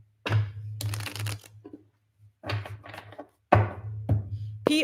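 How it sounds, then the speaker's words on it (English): A deck of tarot cards is shuffled in several quick riffling bursts, crisp and close, separated by short pauses, with a low steady hum underneath. "One more shuffle."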